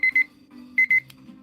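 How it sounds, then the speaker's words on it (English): A timer alarm goes off with two loud bursts of rapid electronic beeping, three or four quick beeps each, separated by a short pause over a low hum. "And the timer is ended."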